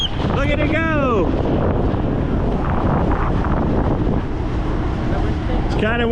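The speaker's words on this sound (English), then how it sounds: "It's kind of windy up here." Strong wind roars across the microphone high up on an amusement park ride, a loud continuous buffeting rumble throughout, with brief voices near the start and end.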